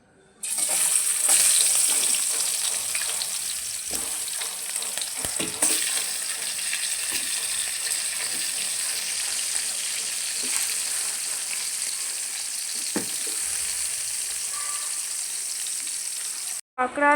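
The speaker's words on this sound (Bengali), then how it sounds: "তেলটা গরম হয়ে গেছে, এর মধ্যে কাঁকড়াগুলো ভেজে নেবো এক এক করে।" Loud, steady sizzling of crabs frying in hot mustard oil fills the whole stretch, with occasional crackles and scraping stirs, ending abruptly.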